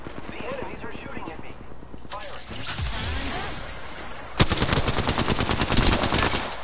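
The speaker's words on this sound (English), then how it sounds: "The enemies are shooting at me." Rapid gunfire from a video game shootout, with a dense, steady stream of shots that sharpens into a louder, faster burst partway through, continuing without pause to the end.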